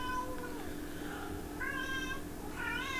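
A kitten meows several times in rising and falling cries, close and clear over a steady low background hum.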